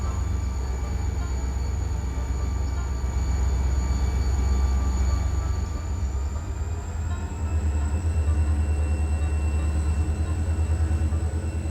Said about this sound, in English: Oh, that's the passenger train.